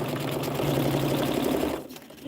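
A sewing machine stitches quilt pieces in a steady, close motor whir with a fast rhythmic stitching hum, then stops abruptly near the end.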